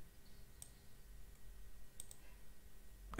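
Mouse clicks on a Windows 11 computer: a few faint, sharp clicks spaced irregularly over a quiet, low background hum.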